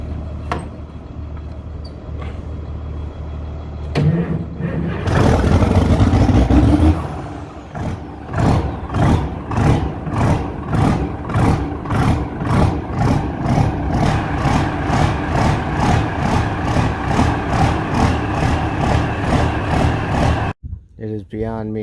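A tractor engine turns over and catches, roars loudly as it is revved, then settles into a steady, rhythmic diesel idle close by before cutting off near the end; a voice speaks briefly.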